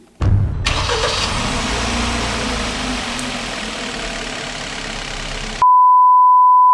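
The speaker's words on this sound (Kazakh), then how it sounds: "Сәл машина нормальный болған сияқты, тынышталды ба?" A car engine runs steadily at a loud, even drone for several seconds, then cuts off abruptly and a steady electronic beep sounds alone.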